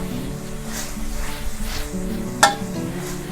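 Garlic pork with egg and sliced spring onion is stir-fried in a pan, giving a steady sizzle with scraping and stirring, plus one sharp clank of utensil on metal near the end.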